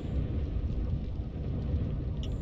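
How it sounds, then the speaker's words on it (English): Thunder from a weather effect in the Subnautica video game rolls as a steady, dense low rumble mixed with rain-like hiss, loud and continuous throughout with no voices. "Oh, wow. Lightning. Yeah, nice weather effects."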